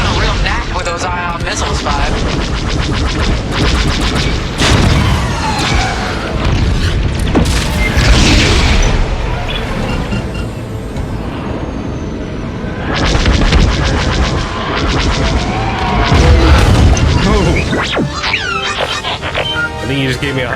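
Ion missile explosions during a space dogfight in Star Wars Squadrons, a dense barrage of booms and blasts over roaring starfighter engines, with pilot radio chatter mixed throughout.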